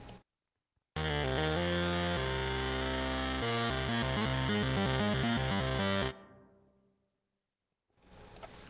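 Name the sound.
synthesizer with valve amp distortion and decimation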